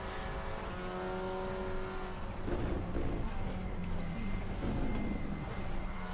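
An Audi touring race car engine in the RaceRoom sim at Aragon drones steadily from behind the exhaust, its pitch climbing and surging as it accelerates out of a corner.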